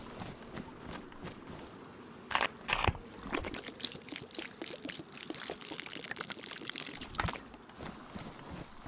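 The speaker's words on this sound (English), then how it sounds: "Because we need to throw that water away and replace it with good water." Water being poured out and discarded in the survival game DayZ, a splashing pour with a couple of louder gushes among crunchy game sounds and footsteps, no talk.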